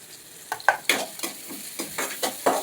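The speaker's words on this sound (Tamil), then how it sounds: "இப்போ இந்த எண்ணெய் சூடானோடனே வெங்காயம் போட்டுக்கலாம்." Onion, garlic and green chili frying in hot oil in a kadai, sizzling under a series of sharp spatula scrapes that come roughly every quarter second, close and without speech.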